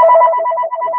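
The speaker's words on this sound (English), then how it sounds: "that's the home phone. It only rings when I'm on live" A home landline telephone rings with a steady electronic warble, loud and close, a continuous two-tone trill running the full second with a brief dip near the end.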